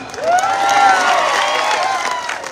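Crowd at a political rally in Majalgaon, a loud burst of cheering and shouting with a rising whistle-like cry over the noise.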